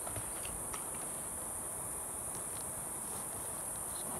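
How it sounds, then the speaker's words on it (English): A cicada drones in a continuous high-pitched buzz, steady and fairly loud from start to finish, with no voices. "I'm gonna catch a cicada"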